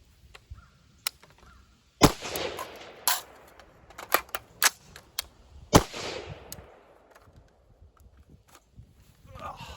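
Sharp gunshots at a shooting range during magazine reload practice, scattered single cracks with uneven gaps, a few louder than others, with someone talking quietly between them.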